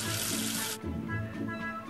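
Water runs briefly like a tap rinsing soap away in a children's cartoon game, a short hissing stream that cuts off sharply, followed by soft background music.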